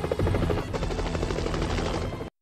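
A loud, steady helicopter rotor chopping close by, with a dense rhythmic thumping that runs continuously before cutting off abruptly.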